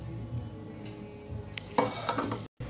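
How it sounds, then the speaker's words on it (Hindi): Utensil scraping and clinking in a bowl as ground sugar and cardamom powder are stirred into a chana dal laddu mixture, a quiet steady mixing that turns brisker and louder toward the end. "अब मैं सब मिला लूंगी।"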